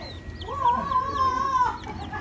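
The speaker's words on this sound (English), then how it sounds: "we got baby chickens right here" A baby chick gives one long, high, sustained peep in the foreground, with fainter chirps from other chicks behind it and a low background rumble.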